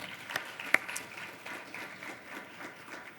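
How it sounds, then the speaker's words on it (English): A small audience gives a modest round of applause for the speakers after a staff panel, scattered soft clapping with a couple of sharper claps early on, fairly quiet and diffuse. "So let's give a round of applause for all of our speakers."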